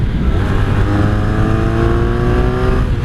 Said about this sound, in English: So if I downshift,